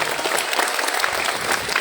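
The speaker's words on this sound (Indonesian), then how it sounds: "Kasih tepuk tangan dulu untuk mereka." Audience applause at a school class meeting opening ceremony, a dense, steady wash of many hands clapping close by for the whole stretch, with no voices standing out.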